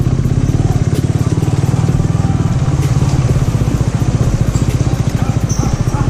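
Motorcycle engine on a muddy, cow-dung-covered trail near Pelhar dam, a loud, close, steady rumbling drone with a fast pulsing beat that runs the whole time without pause.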